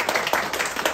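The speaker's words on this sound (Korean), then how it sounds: "인사하실 때 큰 박수 해주시기를 바라겠습니다" Applause from an audience at a Korean Christian federation meeting as members are introduced, a dense steady patter of many hands clapping, close and fairly loud for about a second.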